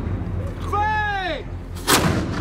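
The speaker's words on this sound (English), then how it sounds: "Artillery!" Artillery cannon fire, one booming blast rising near the end after a faint shouted command and a whistling tone, loud and close against a quiet background.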